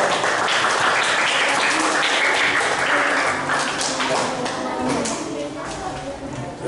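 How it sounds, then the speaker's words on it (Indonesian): Children at a school session clap in a dense, sustained round of applause that stays loud and then tapers slightly, with an adult voice speaking over it. "Tepuk tangan dong untuk kakak ya"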